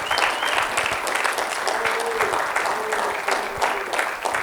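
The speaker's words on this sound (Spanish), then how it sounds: "Denle un fuerte aplauso al Señor." Church congregation applauding loudly and steadily, a dense wash of many hands clapping together with a brief voice rising over it midway.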